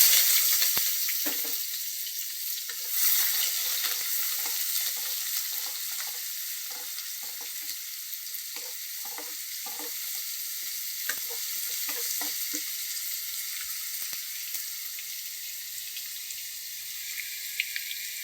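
Sliced onions for a bottle gourd curry sizzle and fry steadily in a hot pan, a continuous bright hiss with occasional stirring clicks and scrapes, close and fairly loud, no voices.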